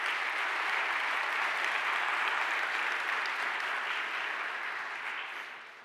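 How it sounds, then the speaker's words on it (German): An audience at a university first-semester event claps in a dense, sustained round of applause that stays full and even before gradually tapering off. "Da sprach gerade sehr viel Dankbarkeit aus dem Klatschen."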